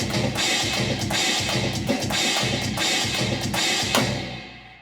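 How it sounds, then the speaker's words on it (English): A drum kit plays a fast linear groove, the right hand alternating between a china cymbal and a floor tom, with a dense, trashy cymbal wash and steady rhythmic hits close up and no talking. "So now what we're going to do is just alternate the right hand between the china and the floor tom."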